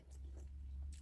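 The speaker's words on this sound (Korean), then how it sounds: "그러면 이 사과 하나 한번 먹어보겠습니다" A crisp, juicy apple bitten and chewed up close, giving a few short crunchy bursts over a steady low background hum, with no talking.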